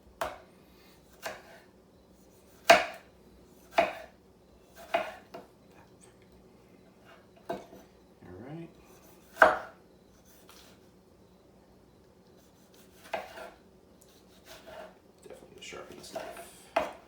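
Fresh tomatoes being cut with a knife on a board while making crock pot tacos, a series of sharp, close thuds spaced a second or two apart, with quiet gaps and faint handling noise between.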